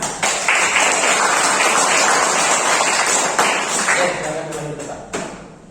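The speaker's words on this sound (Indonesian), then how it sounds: "Tepuk tangan." Students in a university lecture on injury prevention and care applaud a classmate, a dense, loud burst of many hands clapping that holds steady and then thins and tapers off near the end.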